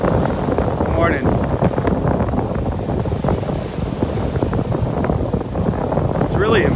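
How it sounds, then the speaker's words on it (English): Strong morning wind on a beach in North Naples, Florida, buffets the microphone in a constant loud roar, with surf blending underneath and someone talking over it. "Hear that wind, at least I think you can hear that wind when I turn around."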